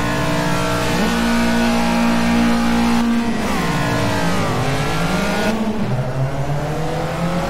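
Caterham Super Seven race car in Project CARS accelerating off the line at a Snetterton race start, a loud close engine climbing in pitch through gear changes with brief dips between shifts, other cars' engines droning underneath.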